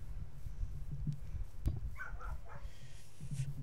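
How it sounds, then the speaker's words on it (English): Dogs barking outside in the Minecraft video game, a few faint, distant barks and yips scattered over a quiet background. "Dogs are outside barking."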